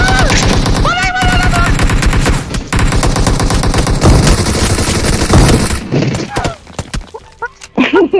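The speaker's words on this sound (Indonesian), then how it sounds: "John, lu nembak kemana, John?" Rapid automatic gunfire bursts from the mobile battle-royale game PUBG Mobile, loud and continuous for most of the stretch, with an excited voice chattering over it before the shooting thins out near the end.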